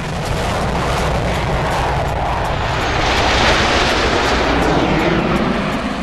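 Eurofighter Typhoon military jet roaring loudly as it passes, a dense, broadband rushing engine noise that swells toward the middle and stays strong throughout.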